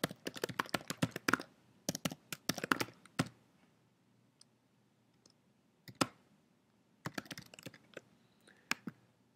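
Typing on a computer keyboard at close range, quick bursts of crisp key clicks with pauses between, some isolated taps, and no talk over them.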